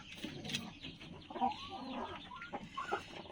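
Backyard chickens cluck softly and continuously while pecking at pieces of pumpkin, close by, with a low background rustle.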